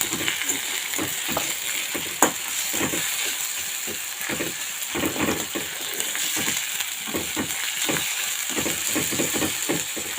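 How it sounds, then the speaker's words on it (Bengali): Spice pastes sizzle and fry in a pan while a spoon stirs them in steady repeated scrapes, a loud continuous hiss with rhythmic stirring strokes and no talking. "এবার তিনটে দেওয়ার পরে একসঙ্গে নাড়িয়ে নিলাম।"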